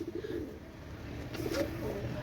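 A pair of teddy pigeons coos in low, soft murmurs at close range, the faint throaty calls rising slightly toward the end over a quiet background.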